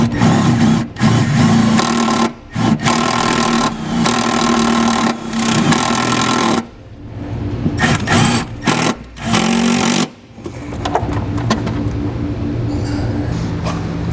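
A power drill drives self-tapping screws into a metal bracket for a flat-tow brake system, with a steady loud whirring motor in several long bursts separated by short pauses and quieter spells.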